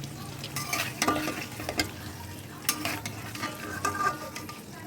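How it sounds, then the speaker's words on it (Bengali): Eight boiled eggs being lightly fried in a pan for egg korma, a close sizzle punctuated by repeated spatula scrapes and turning knocks in an irregular rhythm. "এখন হালকা ভেজে নিচ্ছি"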